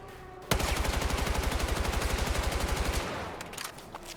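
Rapid automatic hip-fire gunshots in the video game Battlefield 6 ring out in a fast, even burst of about two and a half seconds, loud and close, followed by a short fading echo and a few scattered clicks.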